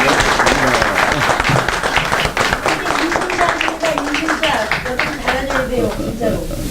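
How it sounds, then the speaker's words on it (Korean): A room of market merchants at a political party meeting in Dongdaemun Market, Seoul, gives a round of close, crisp applause, many hands clapping in a dense rhythm with voices talking underneath. "감사의 뜻으로 박수 한번 드리시죠"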